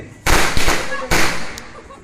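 Two sharp Diwali firecracker bangs about a second apart, each followed by a brief crackling, smoky tail, loud and close.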